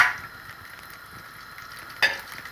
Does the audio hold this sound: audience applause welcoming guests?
no